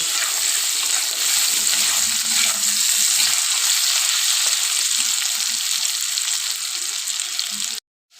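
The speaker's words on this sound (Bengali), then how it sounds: "দেখো আলুটা ভাজছি" Potatoes seasoned with turmeric and salt fry in hot oil in a pan, a steady close sizzle with light stirring, ending in a brief cut to silence.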